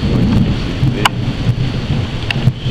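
A thunderstorm with heavy rain roars loud and close, a dense wash of rainfall with rumbling and occasional sharp cracks.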